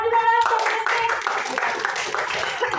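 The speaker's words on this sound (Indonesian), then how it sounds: "Tepuk tangan juga langsung Rizky" In a classroom, a brief voice gives way to students clapping for a classmate, a moderate patter of hands that carries on for a couple of seconds.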